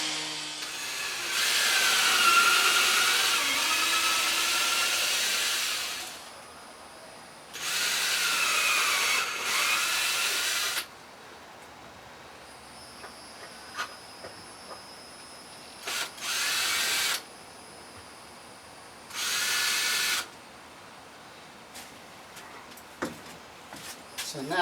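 Power drill boring holes into wood blocks for a porch shade blind: two long, loud whirring runs followed by shorter bursts, with quiet handling noises between.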